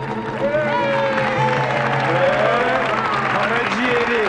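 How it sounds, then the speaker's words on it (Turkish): Crowd applause with cheering, steady and loud throughout, with voices mixed in, at a lively dancing show in a Turkish film. "Alkış lan, alkış."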